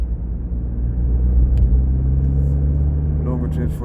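A Suzuki Swift Sport ZC33S fitted with an HKS Hi-Power Spec-L 2 exhaust gives off a deep, steady, rumbling drone from inside the car, while a person talks over it.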